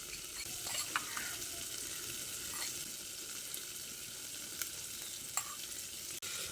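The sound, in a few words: frying and stirring gram flour (besan) in a pan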